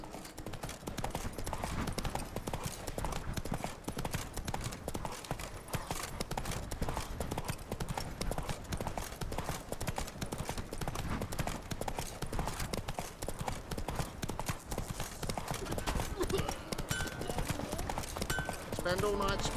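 Roach the horse trotting in The Witcher 3, a continuous run of rhythmic hoof clip-clops over steady game ambience, moderately quiet throughout.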